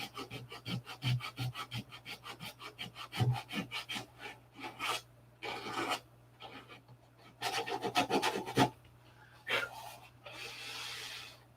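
Wood filler being sanded by hand, a run of short rasping strokes in quick rhythm, then longer scratchy bursts after pauses, close and fairly loud, with a steady low hum underneath.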